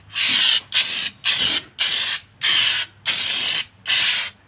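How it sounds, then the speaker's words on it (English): Seven short bursts of aerosol spray paint onto a metal vehicle chassis, each about half a second, hissing in a steady rhythm with brief gaps between, close and loud. "We're now going to give it a quick spray."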